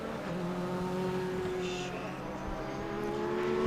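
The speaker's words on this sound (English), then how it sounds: "The revs starting to pick up as we come down full speed under the bridge." GT race cars accelerating at full speed at Road Atlanta, engines droning with rising revs that build steadily, heard from a distance as a continuous layered whine.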